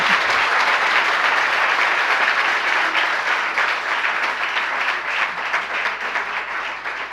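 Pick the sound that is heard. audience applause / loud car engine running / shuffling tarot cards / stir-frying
audience applause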